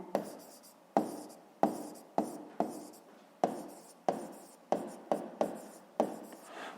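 Pen writing on paper in quick, repeated strokes, about a dozen crisp taps each trailing into a soft scratch, close and quiet with no voices.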